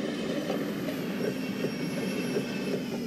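A train rolls along in Yo-Kai Watch with a continuous rumbling ride, faint wheel squeal and soft rhythmic clatter, steady and moderately close, with no one speaking.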